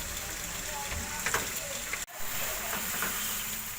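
Chicken pieces fry in a pan for a Hindi-style chicken shorba, giving a steady close sizzle that holds throughout, with one brief sharp dropout midway and talk faintly underneath.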